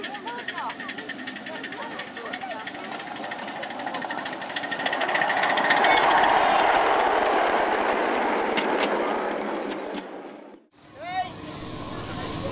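A 7¼-inch gauge 0-4-0 tank steam locomotive pulls away from a miniature railway junction, giving a steady hiss and rolling wheel clatter that swells mid-clip and then cuts off, with voices talking faintly under it.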